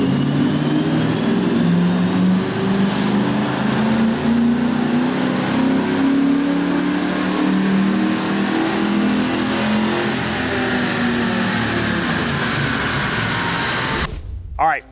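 A Fox Body Mustang engine with a high-flow K&N air filter, advanced timing and the air silencer removed roars on a dyno pull, its pitch climbing steadily for about fourteen seconds before cutting off abruptly.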